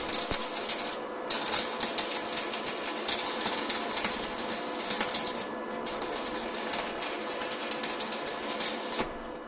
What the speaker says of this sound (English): It's welding even when I'm pushing the rod in the welding pool.